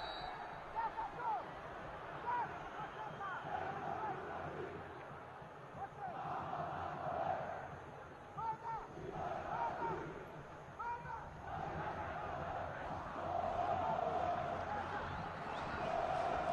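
Organized supporters of a Brazilian football club chant and drum at a Copa do Nordeste match, the rhythmic crowd singing heard at moderate distance under a commentator's voice.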